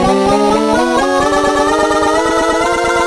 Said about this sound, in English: I wanted to do kind of a riser type thing with my vocal